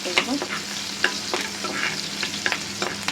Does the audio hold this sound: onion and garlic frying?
yes